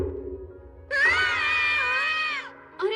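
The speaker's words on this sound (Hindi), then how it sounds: "तुम दोनों चिल्ला क्यों रहे हो?" Two cartoon characters scream together in a sustained, loud, high-pitched wail lasting over a second, followed by a brief shorter cry, with faint background music beneath.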